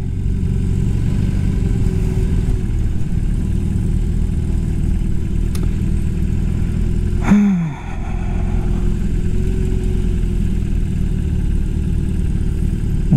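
A BMW R 18 motorcycle engine runs steadily at idle with a deep, continuous low rumble, close and loud, briefly dipping about halfway through before settling back to the same even throb; no talking.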